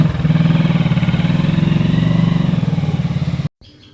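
A motorcycle engine idles on a street with a loud, close, steady pulsing throb that cuts off abruptly near the end, leaving faint background noise.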